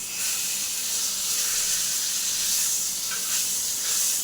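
Fish fries in a pan with a loud, continuous hiss and sizzle of hot oil that swells slightly near the end, close and with no speech.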